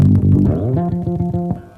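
A quick run of low plucked notes on a bass guitar, a short descending-and-wandering lick in the wrong key, played close and loud.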